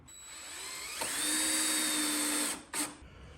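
A power drill drives screws into a hinge on a wooden chicken tractor, a whining motor that rises in pitch and holds for about a second and a half, then a short final burst, close by.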